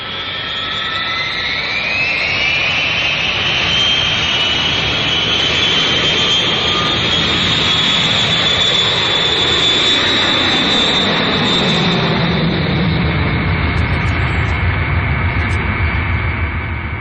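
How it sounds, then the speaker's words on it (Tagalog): Jet airliner engines roar steadily from inside the cabin on a flight to Dubai, a loud continuous drone with a whine that climbs early on and then holds for the whole stretch. "Nagsakay na tayo ining eroplano paingon sa Dubai."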